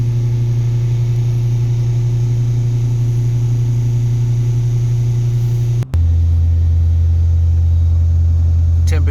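A 2016 Hyundai Veloster DCT turbo engine is held at raised revs during a CRC top-end cleaning treatment. It gives a loud, steady droning hum that briefly cuts out, then settles into a lower, deeper tone.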